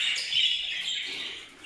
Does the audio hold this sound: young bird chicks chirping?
yes